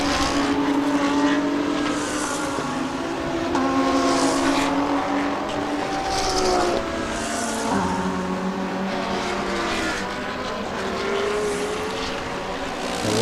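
Race cars, including a Team Toyota Lexus RC F, roar past on a Thailand Super Series circuit, with engine notes rising and falling continuously at moderate distance and no talk.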